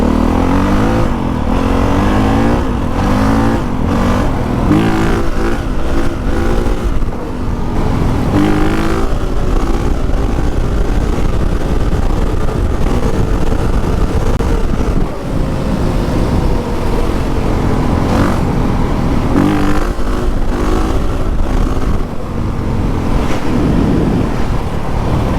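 A motorcycle engine roars continuously up close, revving up and down through shifts with wind buffeting throughout.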